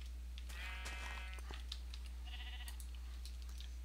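Sheep bleat in the Minecraft video game, a couple of faint, thin bleats amid quiet clicking that sounds like typing, over a steady low hum.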